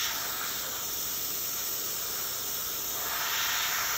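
Steady, loud hiss of a hot air plastic welder blowing on Jeep ZJ/WJ electric fan plastic, an unbroken rushing air sound that swells slightly toward the end.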